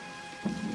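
Rain falls steadily as a soft, even hiss, with a low rumble rising near the end and no voices.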